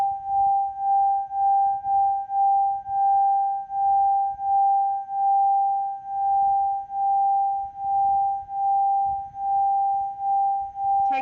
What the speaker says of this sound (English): with the sound of the singing bowl